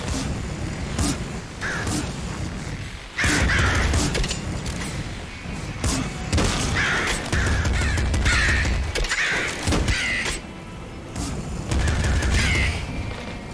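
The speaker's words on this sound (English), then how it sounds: "Damn crows." Crows caw repeatedly in the video game Nuclear Throne, with harsh calls recurring amid a busy mix of gunfire bursts, booms and game effects, fairly loud throughout.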